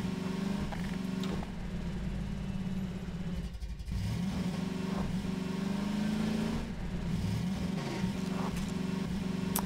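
A buggy driving in Half-Life 2, its engine droning steadily and loud with repeated revving swells and pitch shifts as it accelerates and slows, no talk over it.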